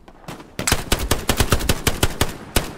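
Gunfire in the World War II shooter game Hell Let Loose: a rapid string of about fifteen close, sharp shots in an uneven automatic rhythm after a brief quiet opening.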